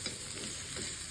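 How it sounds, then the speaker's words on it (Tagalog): Chicken sisig ingredients are stirred in a pan over low heat, giving a faint, steady sizzle with soft scraping, heard briefly and alone. "stir and stir. That's why I can combine and can mix all the ingredients."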